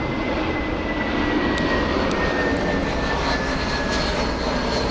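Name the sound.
passenger jet moving at Frankfurt airport, flight to Atlanta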